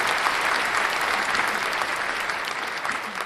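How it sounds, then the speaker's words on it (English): A crowd sound effect of cheering and applause plays as a continuous dense wash of clapping with faint voices in it. "Crowd goes wild."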